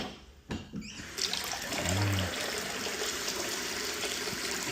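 Water gushes and trickles steadily into a container while being changed for small medaka ricefish in an aquarium setup, loud and continuous after a brief splash.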